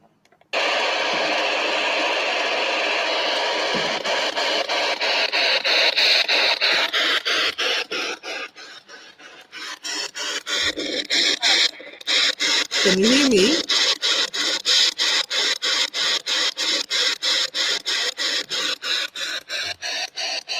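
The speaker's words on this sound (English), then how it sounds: "So this is the one that sweeps through the radio waves, and you might hear little bits of noise come through" An SB11 spirit box sweeps through AM radio stations, producing rapid rhythmic choppy bursts of static and hiss with brief fragments of tones, continuous and fairly loud, dipping briefly midway before resuming its fast pulsing sweep.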